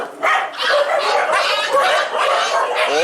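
Several dogs at a dog shelter in Agra barking and yipping in quick overlapping bursts, loud and close, a continuous chorus with no gaps.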